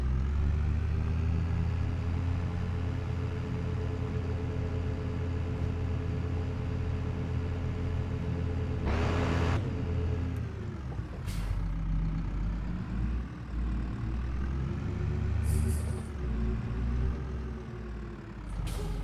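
A new tractor in Farming Simulator 22 drives along with a loud, steady engine drone, punctuated near the middle by a sharp hiss of released air and a few brief clanks later on.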